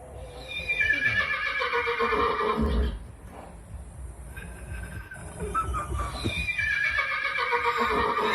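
A dog imitates a horse, giving drawn-out whinny-like neighing cries, loud and near, in two main bursts with a quieter pause between.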